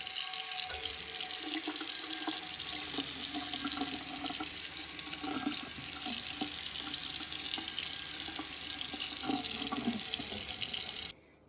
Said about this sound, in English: I'm going to take it and give it a really good rinse